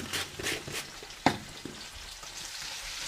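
Onions with a pinch of salt sautéing in a pan for a homestyle Kerala chicken curry, a soft steady sizzle with a few brief stirring scrapes and one sharper clack, no talking.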